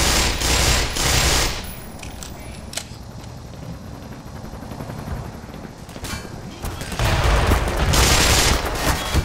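Gunfire in Black Mesa, loud bursts of rapid automatic fire at the start and end, with scattered single shots and a helicopter-like drone in between.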